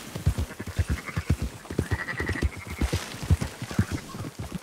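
Sheep in the video game Red Dead Redemption 2 bleat in a rapid, overlapping chorus, a flock of nasal calls close by that continues without a break over a faint background hum.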